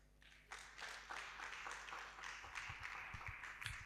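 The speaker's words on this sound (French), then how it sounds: "Est-ce que nous pouvons encore une fois applaudir pour l'écrivain, mesdames, messieurs?" Audience applause for a writer at a French-language event, a broad wash of clapping that starts softly and swells after half a second, holding steady throughout with no one talking over it.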